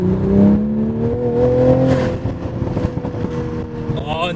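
Toyota Supra fitted with a catless downpipe burbles and crackles through its exhaust, a deep engine drone wavering with rising and falling pitch, loud and close, with scattered pops in the latter half.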